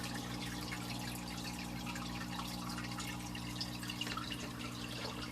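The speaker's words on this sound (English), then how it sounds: "So this is actually flowing pretty good right now, so I can still wait on a filter change." Water from an aquarium filter trickles and drips steadily and close by, with a continuous low hum running underneath.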